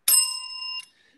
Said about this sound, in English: So I have a bell here.